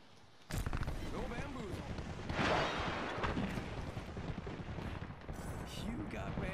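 Gunfire in a shooter video game, with dense rapid bursts and impacts over constant game noise and effects, fairly loud and busy, with people talking over it.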